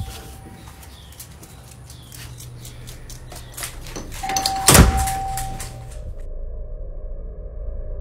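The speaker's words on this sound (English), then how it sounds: "how was the doorbell going off on its own?" A front doorbell rings on its own, a faint sustained electronic tone that sounds twice, with a sharp thump near the middle over steady low background noise.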